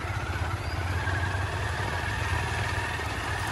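Motorcycle ridden along a badly broken, rough road near Sreemangal, Sylhet, with a steady, loud engine drone and constant low rumble throughout, no voices.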